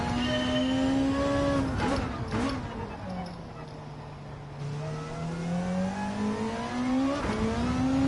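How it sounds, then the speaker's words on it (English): Car engine in Gran Turismo 7 holding a steady drone that dips and climbs in pitch, with sharp breaks at each gear change, loud and continuous from a cockpit view. "But the gear changes, you can notice them a lot better."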